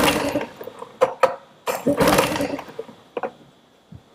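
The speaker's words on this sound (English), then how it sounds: "I'll just go and crank it over a few times with the throttle open." An outboard motor with the throttle open is cranked over during a cylinder compression test, giving a few irregular bursts of mechanical whirring and clattering with short pauses between them.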